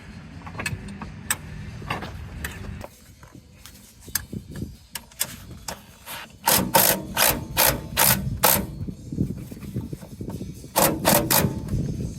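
A ratchet wrench turning a bolt while van steps are mounted, bursts of sharp rapid clicks near the end, mixed with scattered metallic taps and handling noise under a low background hum.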